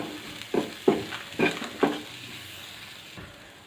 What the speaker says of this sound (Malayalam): അതിൻ്റെ പൊടികളുടെയൊക്കെ പച്ചമണം ഒന്ന് മാറുന്നത് വരെ ഒന്ന് റോസ്റ്റ് ചെയ്താൽ മതിയാവും.